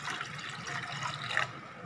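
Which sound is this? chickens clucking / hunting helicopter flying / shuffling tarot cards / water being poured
water being poured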